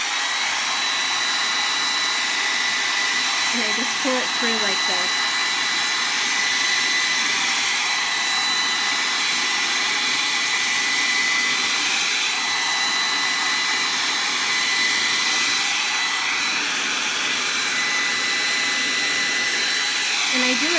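A loud hair dryer blows steadily and continuously while hair is brushed through, a constant close rushing roar with someone briefly talking over it.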